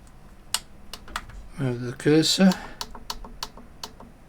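Buttons on a variable speed drive keypad are pressed in a series of sharp, separate clicks at an irregular pace, with someone speaking briefly in the middle.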